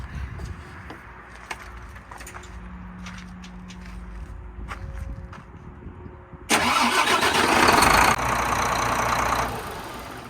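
Renault car engine being started after clicks and faint handling noises, the starter cranking briefly before the engine catches and settles into a loud close idle.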